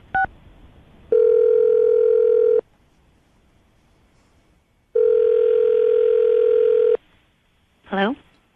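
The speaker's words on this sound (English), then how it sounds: "So I'm about to dial her right now." A phone call being placed, with a short tone, then two long, steady ringback tones of about one and a half to two seconds each separated by silence, loud and clean, ending with a brief rising chirp.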